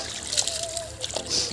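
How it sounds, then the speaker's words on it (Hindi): Irrigation water released into a paddy field channel, trickling and sloshing nearby with light splashes, a faint tone and soft background voices. "तो गाइस देखिए अभी पानी खुल रहा है यहाँ से"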